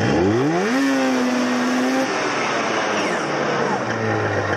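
Snowmobile with carbide studs revving hard at high speed, a loud engine note climbing steeply in pitch and holding at full throttle, then a second rising whine as it tears past.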